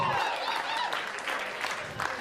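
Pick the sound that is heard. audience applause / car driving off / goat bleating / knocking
audience applause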